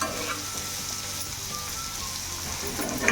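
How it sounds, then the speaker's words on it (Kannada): Onions frying in a pan for jeera rice, a steady dense sizzle running the whole time, close and fairly loud, with no talking. "ನೀಟಾಗಿ ಫ್ರೈ ಆಗಬೇಕು ಈರುಳ್ಳಿ."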